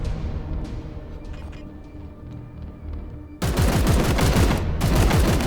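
Sustained heavy gunfire bursts out abruptly midway through a Warhammer 40K Chaos Gate Daemonhunters battle, loud and dense, after a quieter stretch of game ambience.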